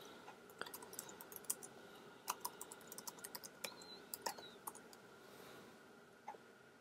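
A computer keyboard tapped to enter a new password, quiet scattered keystrokes in short uneven bursts over a faint background hum, with no voices.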